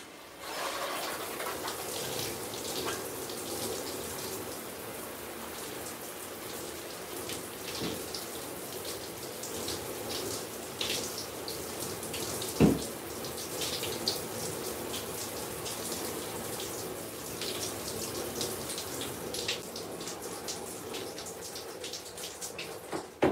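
Tap water runs steadily while hair is rinsed out after a 360 waves session, a continuous close splashing hiss with one brief louder splash midway and no talking.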